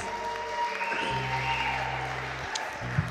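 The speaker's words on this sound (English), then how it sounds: "a round of applause for our newlyweds." Wedding guests applaud the newlyweds inside a Greek Orthodox church, a moderate, steady patter of clapping that holds for a few seconds over a low sustained hum.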